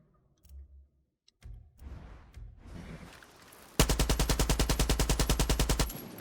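Loud, steady burst of automatic gunfire from a weapon in Far Cry 6, evenly spaced rapid shots lasting about two seconds after quieter scattered game sounds.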